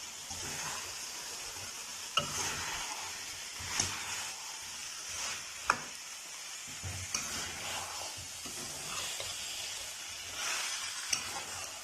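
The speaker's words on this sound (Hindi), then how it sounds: "बहुत अच्छी तरह से हमने शलजम को भी 10-15 मिनट के लिए भून लेना है" Turnip pieces frying in a pan with spices, a steady sizzle and hiss broken by scattered clicks and scrapes of stirring, with no voices.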